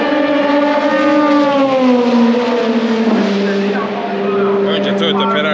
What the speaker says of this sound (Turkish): önce Toyota Ferrari'leri geçti.